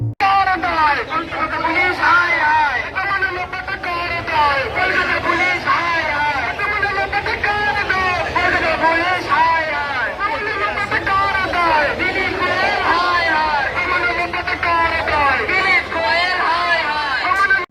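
Junior doctors stage a street protest, a dense crowd hubbub of many voices and chatter, loud and continuous with no single voice standing out.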